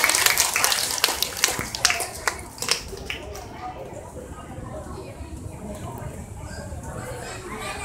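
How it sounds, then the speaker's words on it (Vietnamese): Audience applause at a Buddhist Vesak celebration concert breaks out with sharp claps and cheers, loud at first, then easing into a quieter, steady patter of clapping and crowd murmur. "Những tràng pháo tay thật là đông nhiệt từ quý vị."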